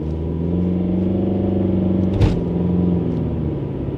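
Engine of a car used for Domino's pizza delivery revs with a loud, close, steady rumble, a sharp clatter or bump near the middle, then settles back into a continuous drone without speech.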